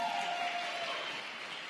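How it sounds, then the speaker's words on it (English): A church or event audience gives a brief burst of steady, moderately distant applause, a dense wash of clapping with no voices over it. "Give him a round of applause again."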